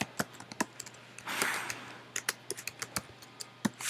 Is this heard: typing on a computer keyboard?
yes